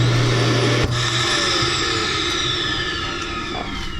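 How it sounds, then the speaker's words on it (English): Built-in central vacuum in a Jayco Northpoint midbunk RV running loudly and steadily, a dense whirring motor drone with a faint falling whine and small knocks, continuous throughout. "This is an in-house vacuum."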